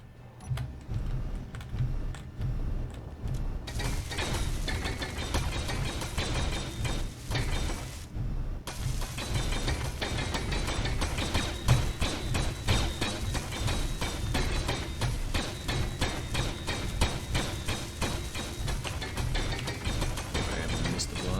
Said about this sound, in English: Now we'll get this welded up.